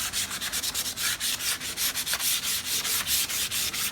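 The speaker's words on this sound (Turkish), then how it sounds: "So what we need to do first is we have to rub it down, take all the loose bits off." Hand sanding strips flaky old finish off a wooden chair, close and loud, in quick rhythmic back-and-forth strokes of coarse scratchy rasping.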